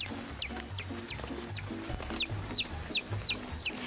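A hen clucking steadily in a low rhythm while her chicks give repeated high, rising peeps, close and clear throughout.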